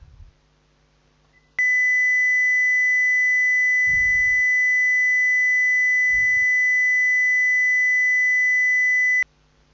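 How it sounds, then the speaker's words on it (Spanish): A pure 2000 Hz sine-wave test tone switches on and holds steady and piercing for about seven and a half seconds before cutting off sharply, with faint low thumps beneath it. "Ahora vamos a escuchar la de 2000 Hz."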